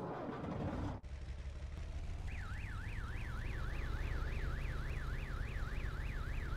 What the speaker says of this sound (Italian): Ti hanno messo l'allarme qua.